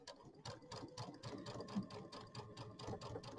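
A sewing machine runs steadily, stitching in the ditch along the edge of a pumpkin satin stitch on a quilted flower pumpkin square, with a fast, even rhythmic needle chatter that stays close and alone.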